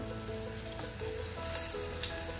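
Asafoetida and turmeric hit hot oil for a Marathi-style potato tempering, giving a steady, soft, close sizzle and crackle that carries on evenly with no talking.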